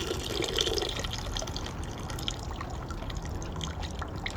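Liquid from a brew-in-a-bag beer mash drains and splashes steadily into the kettle, a continuous close watery rush that runs the whole time with no talking.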